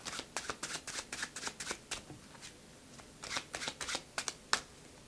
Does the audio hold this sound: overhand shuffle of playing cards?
yes